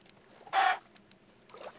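A video game chicken gives one short cluck in a cave level, brief and clear against a quiet backdrop with faint scattered game sounds around it.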